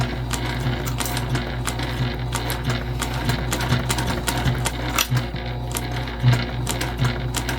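A Juki TL2010Q sewing machine stitches leather in a steady mechanical run of rapid needle strokes, with a constant motor hum and irregular ticks and clicks throughout, close and alone without voices.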